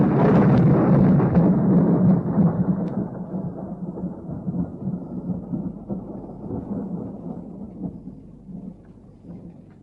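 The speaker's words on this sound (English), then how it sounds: "There's going to be a storm." A thunderstorm sound effect in a vintage horror radio drama opens with a loud, close thunderclap, then long rolling rumbles fade gradually over about ten seconds.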